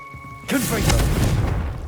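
Confringo fire spell exploding in the video game Hogwarts Legacy: a sudden loud, deep boom that rolls into a sustained rumbling blast, following a short stretch of quieter game sound.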